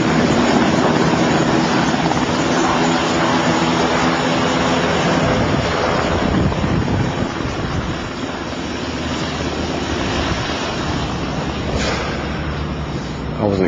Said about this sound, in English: those helicopters have been landing every few hours